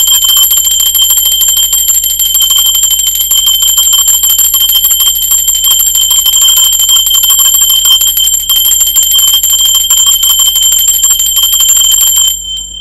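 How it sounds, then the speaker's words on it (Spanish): Continuous loud electric bell ringing without pause for about twelve seconds, a sustained shrill metallic tone that cuts off abruptly near the end. "Ahora sí, va campana, me dejo de charlar."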